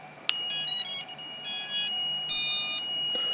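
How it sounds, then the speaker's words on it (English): Tonal electronic startup beeps from a quadcopter drone's ESCs on a 4S battery play in short bursts, some rising and multi-tone, with a sharp click before and after, close and loud. "It's beeping like it's supposed to."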